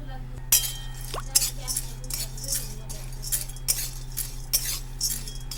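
Chana dal being stirred as it dry-roasts in a pan over a medium gas flame, giving repeated scraping clinks of a spoon against metal at a steady rhythm, close and fairly loud, over a constant low hum.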